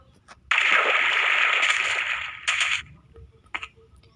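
Water splashing in Minecraft, a bright burst of splashing that holds for about two seconds, then a shorter second splash and a brief third one, with no talking.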